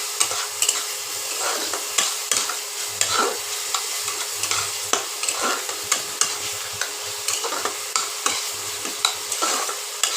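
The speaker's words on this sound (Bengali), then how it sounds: "এবার এটাকে কষিয়ে নেব।" Egg curry masala with turmeric stir-fried in a pan, a steady close sizzle broken by repeated scraping strokes of a spatula, with no talking.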